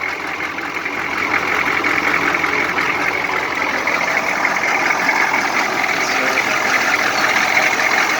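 A military M1008 CUCV truck's 6.2 diesel engine idles after a cracked-piston repair, a steady, loud, close rumble with a faint knocking clatter running unbroken throughout.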